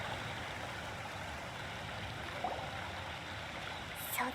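Waterfall where a man sits meditating under the falling water, a steady broadband wash of rushing water holding constant and even throughout, with a faint brief tone near the end.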